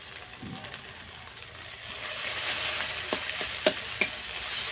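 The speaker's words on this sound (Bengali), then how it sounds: "ধনে বাটা দিয়েও একটু নাড়তে থাকবো" Coriander paste fries in a pan on a village kitchen stove while being stirred, a soft steady sizzle broken by several sharp scraping clicks of the spoon near the end.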